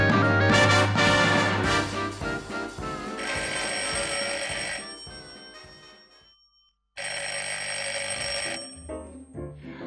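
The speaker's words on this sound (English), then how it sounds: "And the phone rang just as I was going out the door." An old-style telephone bell rings insistently, a loud, rapid metallic trill repeating in bursts with a brief pause before it resumes, heard alone and close.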